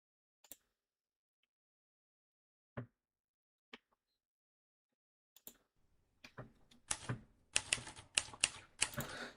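Sparse typewriter key strikes at first, a few isolated clacks, then a quick run of sharp mechanical typing builds up near the end.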